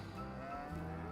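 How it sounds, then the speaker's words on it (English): Dairy cows mooing in the farming game Farming Simulator 22, a low drawn-out bovine lowing with overlapping calls, soft and somewhat distant. "And then these are my dairy cows."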